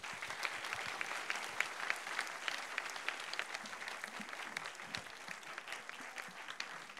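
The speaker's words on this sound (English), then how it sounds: "let's have another big round of applause" An audience at the IYPT final, a physics tournament in Hungary, applauds steadily with dense, sustained clapping throughout.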